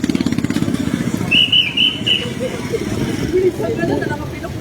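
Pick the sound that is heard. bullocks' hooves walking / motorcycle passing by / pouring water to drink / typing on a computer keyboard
motorcycle passing by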